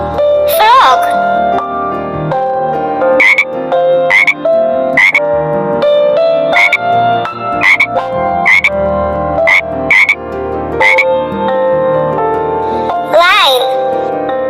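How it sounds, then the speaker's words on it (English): Frog croaking in a quick series of sharp, evenly spaced croaks, loud and close, with a brief vocal sound at the start and end. "Frog."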